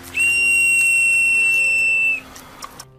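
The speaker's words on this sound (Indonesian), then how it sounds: "Min Kyung pun langsung meniup peluit dan berteriak." One sharp, shrill whistle blast held steadily for about two seconds, loud and close, then cut off, leaving quiet background with faint knocks.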